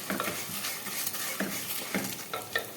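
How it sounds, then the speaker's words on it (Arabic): Vermicelli frying golden in a pan for koshari, a steady sizzle punctuated by regular scrapes and taps of a spoon stirring the noodles. "حمر الشعريه بتاعتي"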